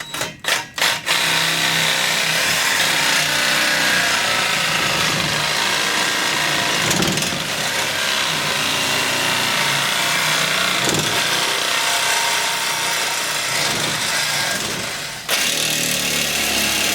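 A reciprocating saw buzzes steadily through wood for a long stretch, loud and close, after a few sharp knocks at the start and a brief break near the end.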